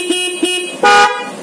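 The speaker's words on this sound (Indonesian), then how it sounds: "Klakson Denso. Suaranya lebih kencang ya dari klakson orinya." An aftermarket Denso horn fitted to a Honda PCX160 scooter gives two short, loud toots followed by a longer, sustained honk, heard up close with no talking.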